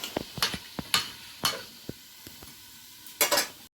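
A spatula stirs a curry of fish and okra in a metal pan, giving repeated sharp clinks and scrapes at an uneven rhythm over a faint sizzle, ending in a quick cluster of scraping strokes.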